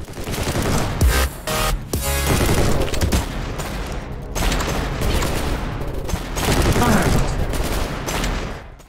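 Rapid gunfire from a VR shooter game against robot enemies. Dense bursts and single cracks repeat almost nonstop with short gaps, loud and close, and no voice can be heard.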